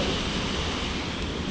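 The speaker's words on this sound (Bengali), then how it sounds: "এখন ঢেউটা একবার দেখো, শুধু ঢেউটা দেখো" Sea waves wash in a continuous, broad roar mixed with wind buffeting the microphone, steady and close, with no voices.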